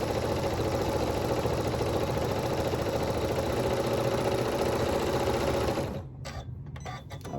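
A sewing machine stitches fabric about half an inch down for a rag quilt bag, its steady, fast mechanical whir running close and unbroken for about six seconds before it slows and stops into quieter handling noises.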